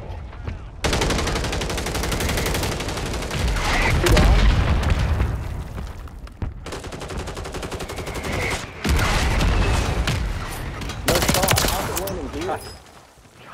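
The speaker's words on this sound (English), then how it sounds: "Mortars." Heavy booming blasts and rapid gunfire from a video game battle, with mortar explosions landing amid constant loud combat noise, while several players talk over the din.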